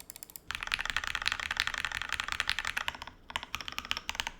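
Steady bursts of typing on an Artifact Industries LVL TYPE-01/80 prototype mechanical keyboard, close and fairly loud, with a brief pause near the end before the keystrokes resume.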